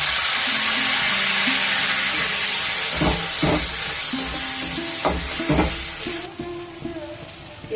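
Poppy seed paste sizzles in a hot pan with a bay leaf for a pointed gourd curry, a steady loud hiss broken by several distinct scraping stirs of the spoon.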